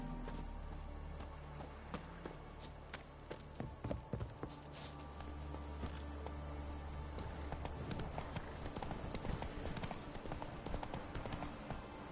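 Roach, a horse in The Witcher 3, gallops with a continuous rapid clip-clop of hooves, close and fairly loud, the beats growing denser and more prominent in the second half, with no talking over them.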